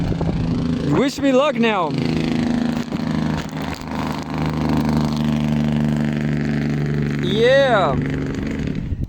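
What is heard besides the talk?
noisy truck passing by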